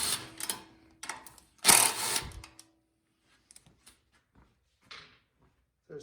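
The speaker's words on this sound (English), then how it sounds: "next we want to remove the bolts that are holding on the shroud that goes" Tools work loose the bolts holding the front shroud of a Craftsman snowblower that won't start. Short whirring bursts of a power driver are followed by scattered faint clinks and taps of metal parts, close by.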